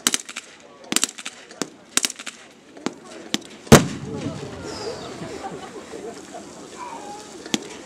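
Mortar fire landing on a distant target area: a string of sharp, separated bangs and cracks, one louder heavy blast midway, followed by rumbling noise and more scattered reports.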